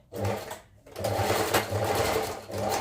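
A sewing machine runs close and steady stitching baggy pants, with a brief pause early before the motor's busy whir resumes and continues to the end.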